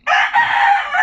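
A rooster crows once, loud and close, a long bright call held for about a second.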